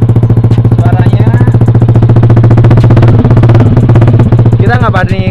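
A loud, steady modified Yamaha Aerox scooter engine revving and idling close by, its rough throbbing drone continuous throughout, with a voice briefly speaking over it.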